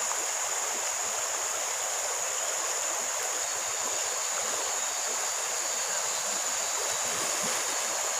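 Fast, powerful river current in Kalimantan rushing continuously, a dense broadband wash of water that stays steady and close throughout.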